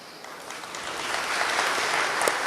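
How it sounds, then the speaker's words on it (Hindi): A congregation clapping at a Sunday church service, a dense patter of many hands that swells slightly louder over a couple of seconds. "ताली बजाकर"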